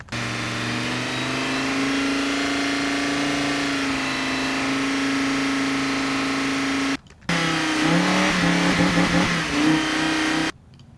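Car engine revving, captured by two Shure SM57 microphones placed on the exhaust: a loud, steady droning idle runs for several seconds, then after a brief cut the engine revs hard in rising, wavering bursts, with no talking.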